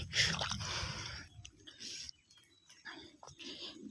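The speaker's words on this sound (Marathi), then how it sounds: "पाण्यात आपण धुवून खाऊन घेऊ आता" Close, crunchy biting and wet chewing of a freshly washed raw mango just knocked down from a tree outdoors, in a few uneven bursts with short pauses.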